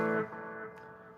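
Electric guitar with a dog-ear pickup played clean through an amp's onboard reverb and an analog delay, with no overdrive; a sustained ringing chord decays under echoing repeats.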